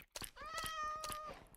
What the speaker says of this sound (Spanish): ¡Tenemos un gato!